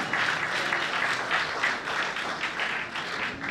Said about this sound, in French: Sous vos applaudissements toujours, n'hésitez pas